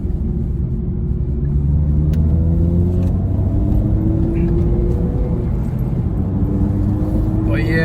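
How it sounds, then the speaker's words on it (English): A Honda Civic Type R FN2 engine revs up through its rev range, a loud, continuous rising and falling engine note heard close up with rumbling harmonics and no speech over it. "And the sound as well, the Vtec of the engine."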